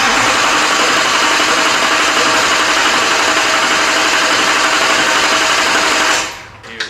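A swapped-in Duramax diesel engine with no fuel line connected cranks over in a loud, steady, continuous churn for about six seconds, then stops abruptly, leaving near silence.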